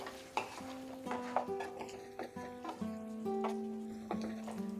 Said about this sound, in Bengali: আমরা একটু ভালো করে নেড়ে দেব।